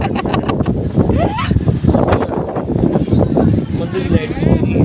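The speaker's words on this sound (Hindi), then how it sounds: "बहुत हवा चल रही है।" Strong wind gusts buffet the microphone outdoors beside a temple, a loud, constant rushing blast with people talking intermittently under it.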